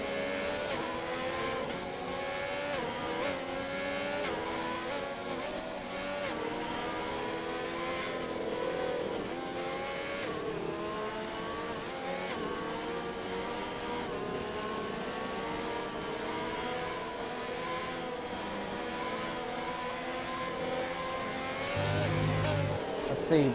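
Race cars in a British Grand Prix racing game on Xbox, several engines droning and revving together in a continuous, layered whine as the field gets back to racing after a safety car, steady and close.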